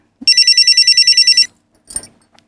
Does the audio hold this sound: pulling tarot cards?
no